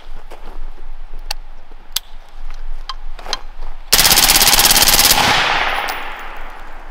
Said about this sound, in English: I'm loading mags, so I get the mag dump. Mag dump. See how she does in full auto.